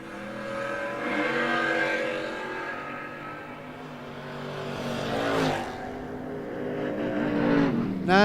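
Camaro race car accelerating hard in a drag race, its engine note climbing steadily through the gears. A second surge of revving builds toward the end, loud and fairly close, with no speech.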